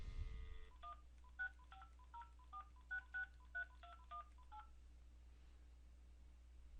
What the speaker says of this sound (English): I will dial into the new number